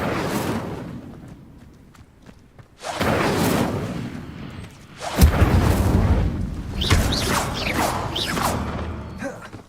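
The Incendio fire spell goes off in Hogwarts Legacy, a whooshing burst of flame followed by a second, louder crackling blast, with airy swishes and rumbling around it and no talk during the effects.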